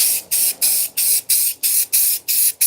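Bursts of spray paint from an aerosol can coat a giant DIY hot cocoa mug, eight short evenly spaced hissing sprays with brief pauses between, close and steady, with no talking.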